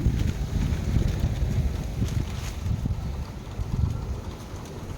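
Loud gusty wind buffets and rumbles across the microphone continuously, a low roaring rush with no voices.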